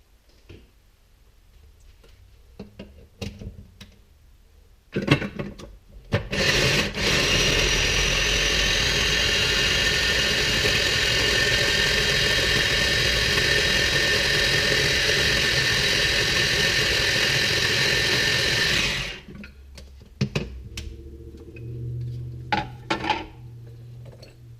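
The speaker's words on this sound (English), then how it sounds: "Alright, ready to be blended." A blender whirs loudly and steadily for about twelve seconds while blending a thick, oily beef curry paste (kari daging), with quieter kitchen clatter before and after.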